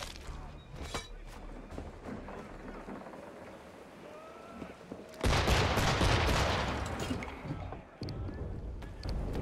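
Gunfire in Assassin's Creed III, a battle at a farm: scattered cracks with wind and background ambience, then a heavy burst of volley fire that continues loudly to the end.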